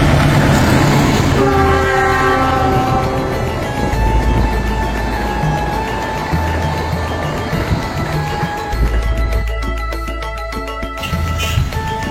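A train passes close by at night: a loud, steady rumble of wagons and rails, broken by long, sustained horn blasts.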